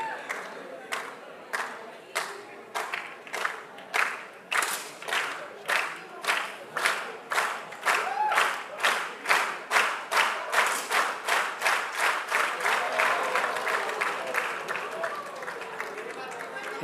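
Spectators at a women's 10m air rifle shooting World Cup in Bhopal, India burst into rhythmic clapping and cheering, a loud steady beat of applause that swells and blends into a broad crowd roar, with a commentator's voice faintly underneath.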